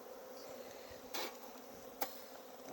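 Honey bees from an opened hive buzzing as a continuous close drone, with two brief louder bursts as a bee passes near, no talking.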